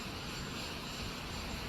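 An airplane engine gives a continuous, even broadband roar that holds steady and fairly loud for a couple of seconds, with no talking.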